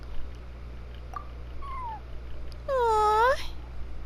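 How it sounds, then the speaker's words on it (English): A cat in Genshin Impact gives a short, clear meow near the end, preceded by a couple of faint chirps, over a low, steady background hum. "Thank you, little kitty."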